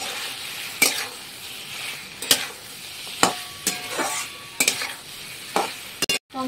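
Thin-sliced cucumbers frying with spices in a pan, soft sizzling beneath repeated sharp clacks and scrapes of a spatula stirring against the pan, close and moderately loud.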